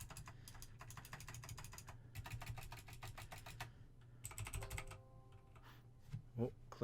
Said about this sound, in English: So like you can hear like the keyboard and that.